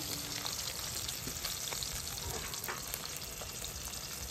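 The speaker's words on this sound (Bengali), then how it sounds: "ভাত ভাজা হয়ে গেছে।" Rice frying in a pan at a picnic, a steady dense sizzle with scraping stir strokes throughout, close and continuous with no talk.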